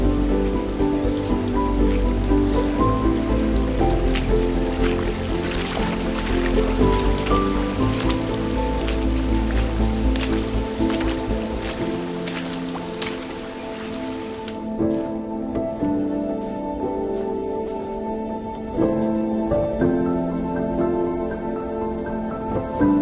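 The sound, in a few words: rain falling on a forest trail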